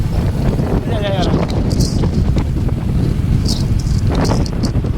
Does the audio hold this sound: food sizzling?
no